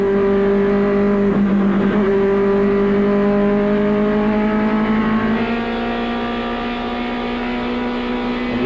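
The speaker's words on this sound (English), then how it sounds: "the iconic sound of these race cars" Goody's Dash Series race cars on track, a loud sustained high-pitched engine whine that holds steady, shifts pitch slightly and then climbs as the cars run at speed.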